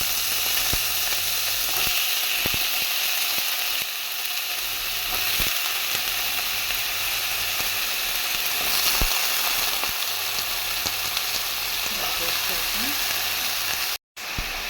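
Potato pieces fry in hot oil with a continuous loud sizzle, punctuated by sharp utensil taps and scrapes, with a brief drop in sound near the end.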